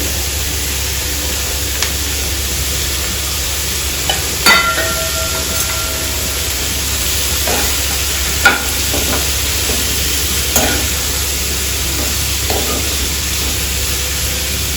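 Beetroot and onion frying in a pan for a beetroot curry, a steady soft sizzle throughout with a few light clicks of a spoon stirring, close and continuous with no talking.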